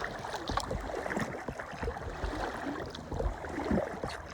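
Kayak paddling on open sea between Stokes Bay and Portsmouth Harbour: steady water swishing and gurgling around the hull with soft rhythmic paddle strokes, close and continuous, no talk.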